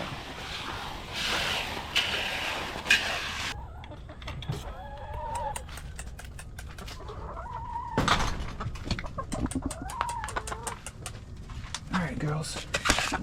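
Backyard hens crowd around a brownie-like treat, with soft clucks and short bird calls scattered among busy pecking and rustling, close by, while a person talks over them now and then.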